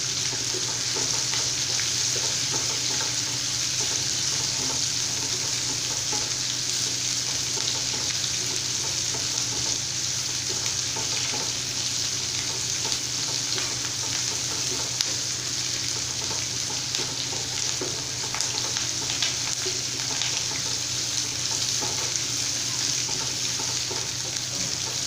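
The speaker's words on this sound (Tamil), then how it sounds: "இப்போ வெங்காயம் பாருங்கள் நல்லா வதங்கிட்டு இருக்கு." Sliced onions sautéing in oil in a pan for a raw banana fry, a steady close sizzle and crackle that continues without a break throughout, with no talking.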